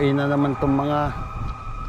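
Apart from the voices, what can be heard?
fire truck and ambulance sirens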